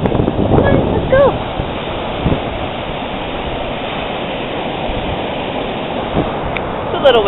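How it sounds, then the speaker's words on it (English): Strong wind buffets the microphone over crashing surf at a beach, loud and continuous, with a few brief distant voices. "It's a little windy."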